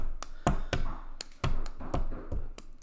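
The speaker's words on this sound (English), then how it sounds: "He's currently now knocking on his door." Knocking on a door, a series of sharp separate raps in an uneven rhythm, fairly close and loud with no talk over them.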